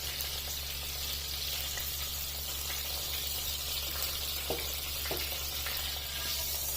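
Capsicum (shimla mirch) sizzles in oil in a pan with a continuous close hiss and occasional pops over a low steady hum, with no voices.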